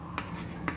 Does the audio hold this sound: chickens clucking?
no